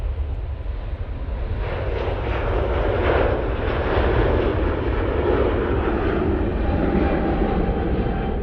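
A Virgin Atlantic airliner takes off at Manchester Airport, its jet engines producing a loud, sustained roar that holds steady and builds slightly as the aircraft powers down the runway.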